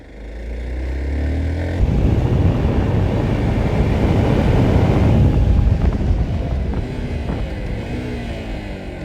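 A motorcycle engine hums, then roars louder as the bike speeds up, and the engine note drops away as it slows under engine braking without the clutch. No one speaks.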